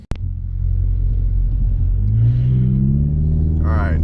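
A Ford Focus with a Focus-power engine tune rumbles loudly up close and pulls away, its engine note climbing steadily as it accelerates.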